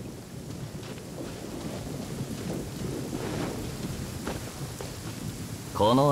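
Steady rain with low rumbling thunder in a stormy scene from the video game Genshin Impact, a continuous wash of rainfall that swells briefly near the end.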